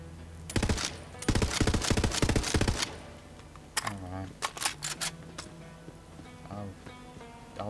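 Burst-fire gun shooting in Borderlands 3: rapid clustered shots in close, loud bursts, followed by a few sparser shots, with someone talking intermittently.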